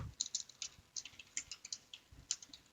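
Someone types on a computer keyboard while writing mod code, making quiet, quick, irregular bursts of crisp key clicks close by with short pauses between them.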